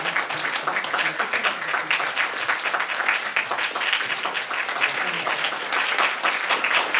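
A church congregation at a Sunday worship service gives sustained, dense applause, an even wash of many hands clapping at once from start to finish.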